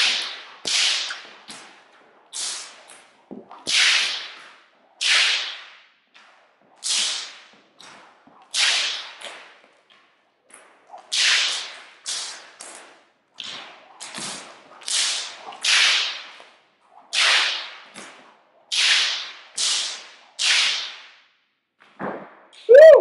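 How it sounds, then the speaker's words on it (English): A whip cracks again and again in a sideshow act, sharp isolated snaps arriving in irregular bursts over about twenty seconds, loud and close, with quiet gaps between cracks and no talking. "Every little crack of the whip"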